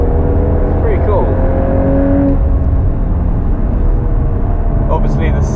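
Stock Mk8 Volkswagen Golf R engine lapping a race track, a steady loud drone with shifting pitch heard from inside the cabin, with a voice talking over it.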